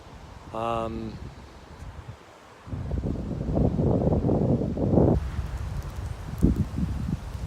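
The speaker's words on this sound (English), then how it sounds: "it really is getting quite windy" Strong gusts buffet the microphone in loud, roaring bursts, with a brief lull before the wind surges again; a voice is briefly heard early on.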